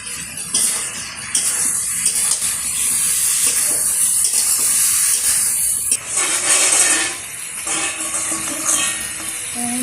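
Water is poured into a pot of Bengali curry with pointed gourd and lentil dumplings, a loud splashing, hissing rush that comes in several bursts with short pauses.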